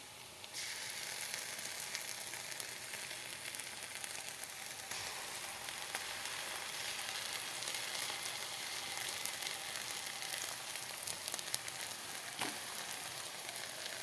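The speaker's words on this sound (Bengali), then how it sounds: "এখন মশলাগুলোকে ঢেলে দেই।" Spices tipped into browned onions in a hot pan set off a steady, loud, close sizzle of frying that runs evenly throughout with no voices.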